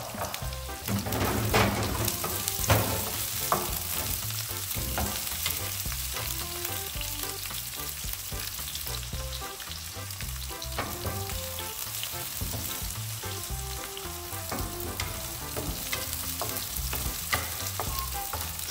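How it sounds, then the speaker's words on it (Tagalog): Chopped garlic and onion sauté steadily in a hot pan, giving a dense, continuous close-up sizzle and crackle with occasional stirring scrapes and no voices. "igisa lang natin hanggang maging brown ang ating sibuyas at bawang"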